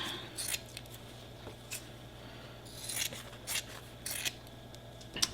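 Scissors snip through fabric for a tote bag in a quiet room, a handful of short, soft cuts spaced irregularly with faint rustling between them.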